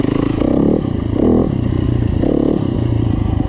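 Yamaha YZ250F dirt bike with an added flywheel weight ridden in second gear through woods, its engine note rising and falling in several surges, close and loud throughout.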